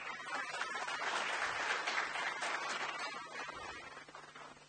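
A crowd at a project exhibition welcome ceremony applauds steadily, a dense wash of clapping that swells and then slowly thins toward the end.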